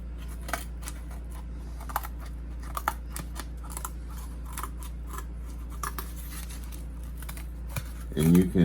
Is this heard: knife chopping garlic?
no